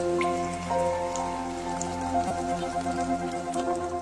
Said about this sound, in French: les oiseaux-mouches adorent la pluie et ne perdent jamais une occasion de prendre une bonne douche